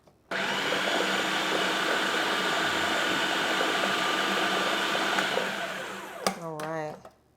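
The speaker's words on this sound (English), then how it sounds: "Okay, and then let's blend this up, and then we'll taste for salt." A blender purees olive tapenade with a loud, steady whir that starts abruptly, runs for about six seconds, then winds down, followed by a brief knock and a short spoken remark.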